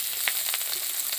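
Onion and bay leaf frying in a pan of hot oil for a village fish curry, a steady close broadband sizzle with a few brief crackling pops, no voices.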